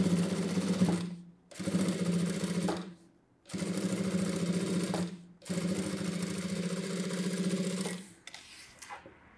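Sewing machine stitching a belt piece on a blouse, running in four bursts of steady rapid motor-driven needle chatter separated by short pauses, close and clear, with no talk.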